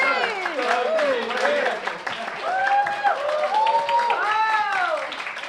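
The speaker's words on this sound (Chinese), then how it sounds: "我们掌声鼓励" An audience at a church small-group launch gathering applauds a performance, the steady clapping continuing beneath loud voices that speak or sing throughout.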